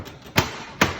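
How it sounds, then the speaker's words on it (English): The cabinet door of an IGT S2000 slot machine is pushed shut with two short, sharp knocks about half a second apart, close by. "So we're gonna shut the door,"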